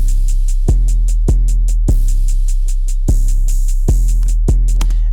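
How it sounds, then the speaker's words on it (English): A simple two-step hi-hat pattern sits inside a produced beat, with crisp, regular hat ticks riding over steady kick hits and a low bassline, loud and upfront with no voices. "it's just like a regular hi-hat"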